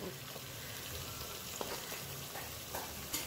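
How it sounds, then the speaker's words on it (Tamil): Soft, steady sizzling of chopped tomatoes sautéing in a pan for neem flower rasam, with a few light clicks of a spoon stirring now and then. "இப்போ நம்ம எல்லாத்தையும் சேர்த்து நல்லா வதக்கி எடுத்துக்கலாம்"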